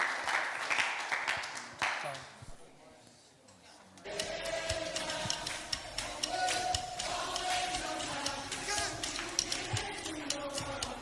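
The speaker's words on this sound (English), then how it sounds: "So give it a round, another clap of hands to welcome group 3." A church youth service audience claps, a few seconds of scattered clapping that gives way to louder music and crowd noise with voices.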